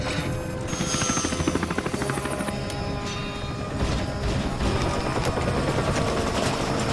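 Helicopter rotor and engine roar with a failing rotor amid overloaded electronics in a sci-fi disaster movie scene, a loud continuous mechanical thrum with clanks and crashing hits layered through it.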